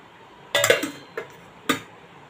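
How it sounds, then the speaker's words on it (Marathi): A lid goes onto a pot: a cluster of metallic clinks and rattles, then two short separate knocks, close and crisp against a quiet room with no talking. "आता हे मी झाकण ठेवून देते"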